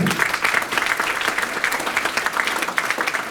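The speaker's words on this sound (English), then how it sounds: "give a round of applause to our special guest" A short burst of steady crowd applause welcomes a special guest at an alumni homecoming event for a CEO faculty programme, thick and even throughout.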